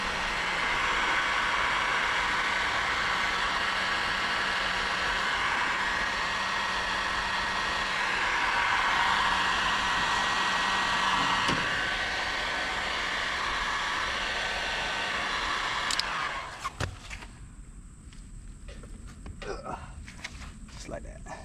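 A heat gun heats plastic tubing on a pressure washing trailer fitting, blowing a steady, loud airy roar for about sixteen seconds before it cuts off, leaving faint clicks and handling noises.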